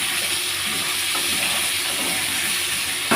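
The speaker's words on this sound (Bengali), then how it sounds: "এবার আমি এটাকে একটু নাড়াচাড়া করব" Pointed gourd and prawns with potato being stirred in a frying pan, a dense continuous sizzle with soft scraping of the spatula, close and steady, no speech.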